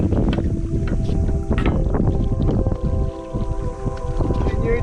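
A sailboat's engine runs in reverse while the boat picks up a public mooring, a loud rumbling drone mixed with heavy wind buffeting and water noise, with brief voices calling out.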